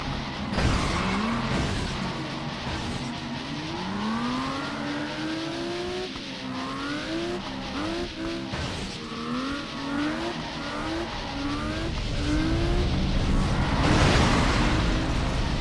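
Arcade driving game: an engine revs up and down in rising whines while tyres squeal and skid through turns, a continuous loud run that swells toward the end.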